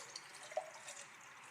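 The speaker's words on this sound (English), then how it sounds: "I have my 20 ounces of filtered water that I add to it" Filtered water poured into a jar for water kefir, a faint steady trickle with a few small drip-like splashes, close and quiet with no voices.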